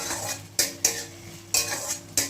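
Pieces of taro fry in a pan under a low, steady sizzle while a utensil scrapes and clinks against the pan four times, close by, with no talking.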